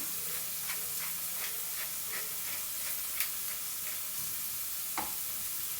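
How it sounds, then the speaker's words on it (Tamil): Bell pepper and onion fry in a pan for Mexican rice, giving a soft, steady sizzle with a few faint clinks of a utensil, quiet and without speech. "இந்த பெல் பெப்பரு ஆனியனு எல்லாம் கொஞ்சம் குக்காகட்டும்"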